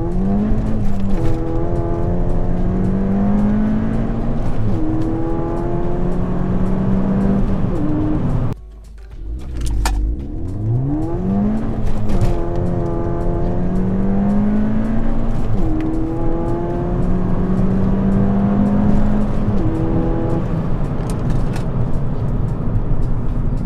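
A Stage 1 tuned Ford Fiesta ST accelerates hard to about 60 mph in second gear, the engine note climbing loud and continuous, with a brief dip at a gear change before revving steadily up again.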